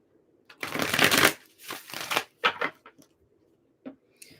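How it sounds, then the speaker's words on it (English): Tarot cards riffle and flutter in a close, crisp shuffle, followed by a few lighter taps and slides as the deck settles. "One more shuffle."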